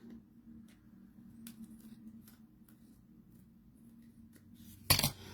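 Scissors trim a paper tag in a craft setting, with soft quiet paper rustling followed by one short, sharp snipping burst near the end.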